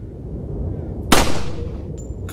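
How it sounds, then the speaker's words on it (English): A single sharp gunshot fired in the survival-horror video game Resident Evil 4, a loud broadband crack with a short decaying tail over steady low game ambience, followed by a faint brief tone. "I can shoot him."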